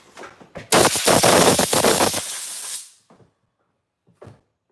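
Compressed air blasts debris off a small-engine carburetor from a pole saw or string trimmer: a loud, close hiss of roughly two seconds with brief stuttering pulses, then fading to quiet with a couple of faint clicks.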